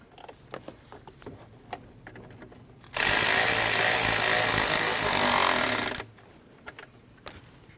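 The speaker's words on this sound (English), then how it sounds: "Tighten that 7mm clamp." Power tool tightening a 7mm hose clamp on the rubber hose of a 2013-2019 Ford Escape 1.5L L4, a loud steady whir of about three seconds, set between faint clicks and handling taps.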